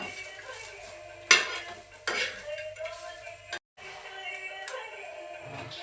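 A spatula scrapes and stirs on a hot iron griddle while roasted chickpeas, cashews and a garlic clove faintly sizzle, with a few sharp metallic clanks and a brief pause.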